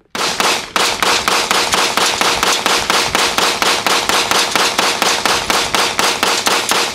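Custom Taurus G3C pistol emptying its magazine in a fast mag dump, roughly two dozen sharp, loud shots in an even, rapid rhythm, close by and with no talking over them.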